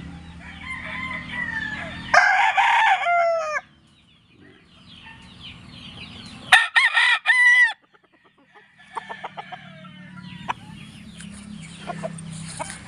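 Joe Black gamefowl roosters crow loudly in a cording area, several long crows in bursts separated by quiet gaps, with clucking and other birds in the background.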